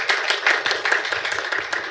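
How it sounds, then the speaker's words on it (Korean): A forum audience claps for a panelist from a city cultural foundation, with light, scattered hand claps from a modest crowd, fairly close and alone without talk. "네, 박수 부탁드립니다."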